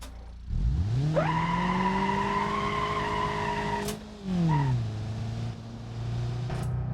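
In BeamNG.drive a car speeds up to 60 with a rising engine note, and its tires then give a long, steady, loud squeal as it skids before the sound shifts downward and settles.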